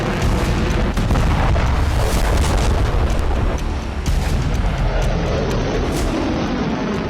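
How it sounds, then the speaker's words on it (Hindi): Ballistic missiles launched one after another at night by Houthi forces, heard as a sustained, loud roaring rumble with boom-like bursts throughout, dense and continuous with no talk. "रात के अंधेरे में एक के बाद एक 2 मिसाइलें दागी गई।"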